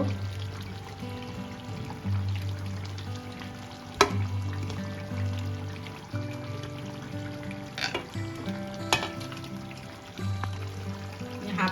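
Tomatoes sizzle and fry in a pan while chicken kosha cooks, a steady hiss with a few sharp clinks and scrapes from stirring, no voices.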